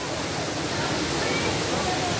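The Cipó waterfall in Guaramiranga, Ceará, roars as a steady, close broadband rush of falling water with no break.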